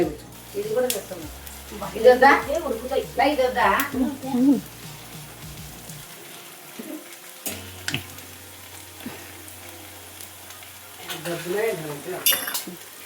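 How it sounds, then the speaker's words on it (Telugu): Oil sizzles steadily in a pan as crisp lentil snacks deep-fry quietly beneath a person talking, with occasional clinks of utensils. "అన్నీ ఇట్లనే వేయించుకుందాం."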